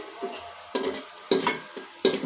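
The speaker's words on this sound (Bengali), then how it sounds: "এক কাপ পরিমাণ পেঁয়াজ কুচি আমি এখন একটু বেরেস্তার মতো ভেজে নিচ্ছি" Chopped onions frying in oil for tehari while a spatula stirs them: a low sizzle broken by four sharp scraping strokes across the pan, close and clear.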